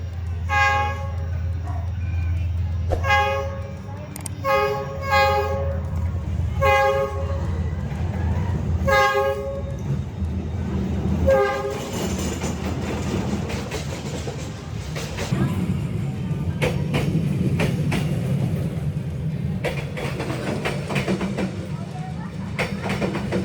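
A train rolls slowly through a narrow Hanoi residential street, sounding repeated horn blasts up close, then rumbles past with loud clattering while people talk and shout nearby.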